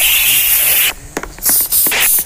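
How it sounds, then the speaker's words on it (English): Spray hisses in the Roblox Brookhaven game: one long continuous burst, then several short, sharp puffs, loud and close. "I'm gonna spray again."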